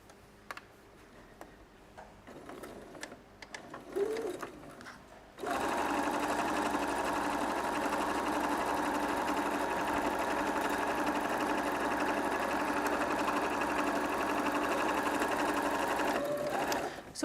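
After a few seconds of quiet handling noises, a sewing machine starts stitching fabric for a bag and runs continuously with a steady, rapid whirring clatter, close by and loud until it stops at the end.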